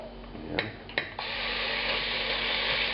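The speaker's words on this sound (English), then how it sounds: "there's some sizzling, but it's not the explosive Mount Vesuvius of reactions like with usual tomato sauces" Olive oil sizzling gently in a stock pot as ragu prep begins, a steady mild hiss with a couple of brief sharper crackles early on, fairly close and without talk.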